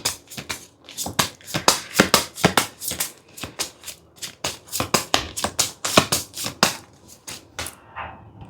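Slippery tarot cards being shuffled by hand in a steady run of quick, crisp riffling bursts, close and fairly loud, with no talking.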